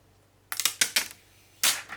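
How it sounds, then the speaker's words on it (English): Adhesive backing being peeled off the screen of a CarPodGo Mini CarPlay unit: a handful of sharp, crackly bursts come close together, then one more rip after a short pause. The sound is close and alone, with no talk. "we're going to peel the screen thing off"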